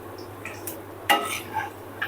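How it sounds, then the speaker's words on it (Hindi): Papdi (fried dough crisps) cooking in hot oil while a spoon stirs and turns them, giving soft scraping and clinking taps, with one sharper knock of metal against the pan. "और गोल्डन होने तक इन्हें फ्राई करेंगे।"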